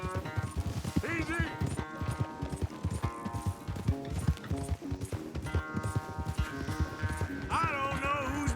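A horse gallops in Red Dead Redemption 2, its hooves drumming in a quick, steady clip-clop, with characters talking and music playing over it.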